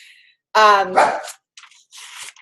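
A dog nearby gives one loud, sharp bark, followed by a shorter yelp and a few fainter, softer sounds in an otherwise quiet room.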